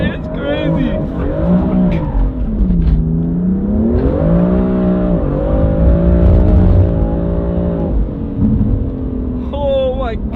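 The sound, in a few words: car accelerating and sliding in third gear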